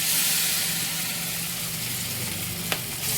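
Chicken pieces frying in white oil in a large wok for chili chicken give a steady, close, dense sizzle throughout, with one brief sharp clink near the end and no talking.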